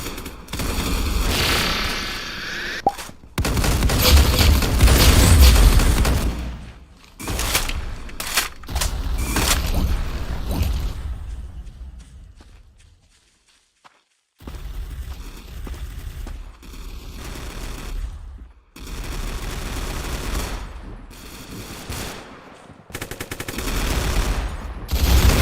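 Rapid bursts of gunfire from a Spaz 12 shotgun and other weapons in a video game, loud and dense with brief pauses and a near-silent gap midway.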